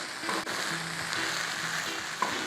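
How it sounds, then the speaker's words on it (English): Low sodium soy sauce hits hot cauliflower rice in a pan, giving a steady close sizzle and crackle with a few soft scrapes of stirring. "So our last step is gonna be adding our soy sauce. We wanna incorporate it in the pan so we get a nice even coating"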